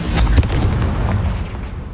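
Confringo fire spell blast in the video game Hogwarts Legacy: a single loud, dense explosive boom that rolls on as a rumbling roar for about two seconds.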